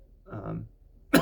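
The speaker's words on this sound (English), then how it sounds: "The coughing's too much." A single sharp cough, loud and close, bursts out abruptly at the very end after a moment of quiet talk.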